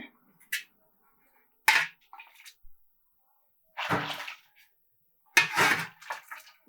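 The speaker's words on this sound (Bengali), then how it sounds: "আমি মেপে দু বাটি জল দিচ্ছি এখানে" Water is poured from a measuring bowl into a pot in several short, separate splashing bursts with quiet gaps between them, heard close and fairly soft.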